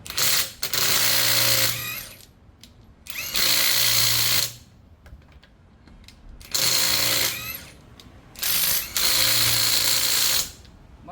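Cordless impact wrench (Raymond RB-SD1608W/RB-SD210 type) loosening a nut in an auto service setting: four loud bursts of rapid hammering whir, each about one to two seconds, separated by short quiet pauses, close up.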